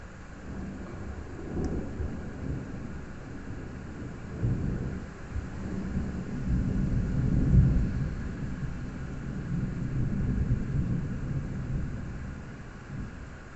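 Morning thunderstorm with long, deep rumbles of thunder rolling and building in waves, with a light rain hiss beneath, moderately loud and no voices.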